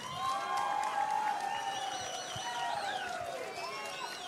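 An audience claps and cheers to welcome the chief minister at an International Disabled People's Day event, the applause a continuous wash under a crowd's overlapping voices and high whistles.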